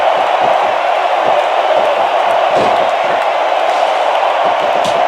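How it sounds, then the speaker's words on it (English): Capacity crowd in a wrestling arena in the video game WWE SmackDown vs Raw, a loud continuous roar of cheering voices holding steady throughout. "It sounds like this capacity crowd has something on their minds, Taz."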